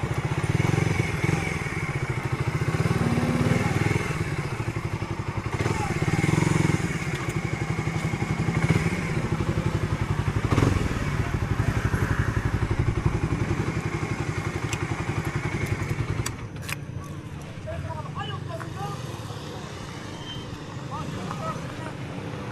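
A motorcycle engine rumbling steadily nearby on a Batangas road loop, with clatter and people talking over it.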